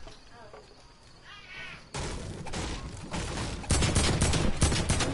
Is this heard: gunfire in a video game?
yes